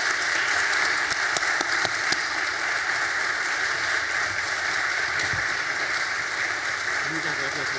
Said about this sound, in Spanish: Despedimos a Ignacio con un fuerte aplauso.